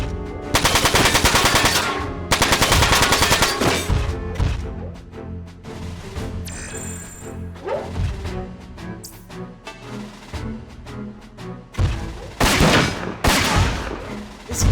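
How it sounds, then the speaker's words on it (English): Heavy machine gun fire from the Front Mission 4 video game comes in loud, sustained rapid bursts, separated by short gaps with explosive crashes and game sound effects. "swap to the machine gun"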